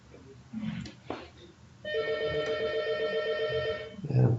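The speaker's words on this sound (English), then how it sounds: "And of course I'm getting a phone call." A telephone rings with an incoming call in an indoor room, a steady electronic warbling tone lasting about two seconds, moderately loud after some faint background rustling, with no talking over it.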